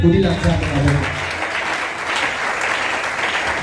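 A church congregation breaks into sustained applause, a dense wash of clapping that swells after a short spoken phrase from a preacher at the start and continues loudly to the end.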